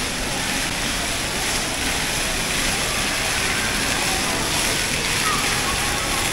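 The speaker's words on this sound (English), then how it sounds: "waterfall." Indoor waterfall at a shopping mall in Angeles City, a dense, steady rush of falling water heard close and loud, with no breaks throughout.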